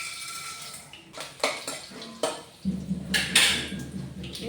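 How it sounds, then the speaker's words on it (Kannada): Mustard seeds, chana dal and urad dal hit hot oil in a pan for a drumstick-leaf palya, bringing scattered pops and clinks that swell into a steady sizzle with utensil scraping; no one speaks. "ನೋಡಿ ಎಣ್ಣೆ ಬಿಸಿಯಾಗಿದೆ. ನಾನು ಇವಾಗ ಸಾಸಿವೆ, ಕಡಲೆಬೇಳೆ, ಉದ್ದಿನಬೇಳೆ ಹಾಕ್ತಾಯಿದ್ದೀನಿ"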